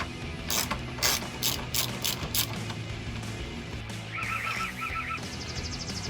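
A ratchet wrench with a 13mm socket loosening an engine bracket bolt on a HEMI Charger, a run of close clicking ratchet strokes followed by a few quicker clicking bursts, with no talk.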